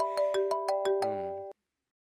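A phone ringtone plays a quick run of bright, evenly spaced electronic tones, then holds a ringing note for a moment before cutting off sharply into silence.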